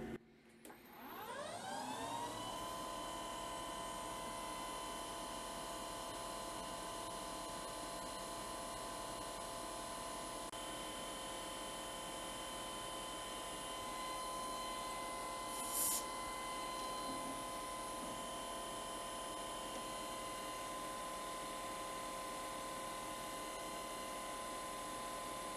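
A lathe spins up and runs steadily while its carriage micro-drills a hole, a sustained mechanical hum with a constant whine and faint ticking, alone without talk.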